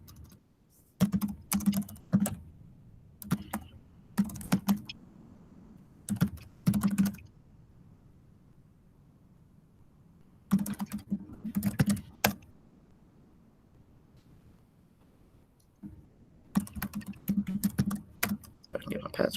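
Close bursts of typing on a computer keyboard as a password is entered, several quick clusters of keystrokes separated by pauses, with a faint low hum underneath.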